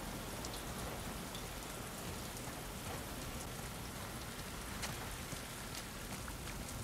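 Steady rain pours outdoors in the video game The Last of Us Part II, a soft, continuous hiss of drops on surfaces with scattered sharper spatters, faint and unbroken.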